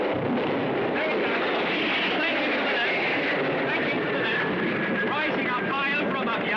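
A military aircraft on an attack run over a Nigerian town during the civil war roars as a dense, sustained drone, with a man reporting over it throughout.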